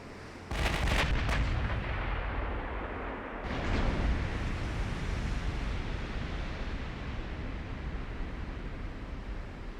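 Warship guns fire in Ultimate Admiral: Dreadnoughts during a naval battle: a heavy close salvo booms at the start, a second deep blast follows near four seconds, and both trail into a long rumbling roar with no talk.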